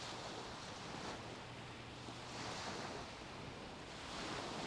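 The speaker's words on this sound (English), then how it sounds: "Sounds of the waves, sounds of the birds, a calm presence" Steady ocean surf washes onto a beach in broad, continuous swells, with a soft rush of wind across the microphone and no voices.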